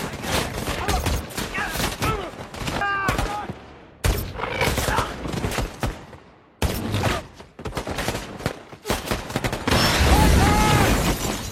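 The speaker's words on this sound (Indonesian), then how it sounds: "Terjadilah kontak senjata antara pasukan penjagal dan tentara Amerika." Gunfight between a squad of killers and American soldiers, with dense rapid bursts of rifle fire and sharp single shots in several loud stretches broken by abrupt cuts and brief pauses, with voices faintly mixed in.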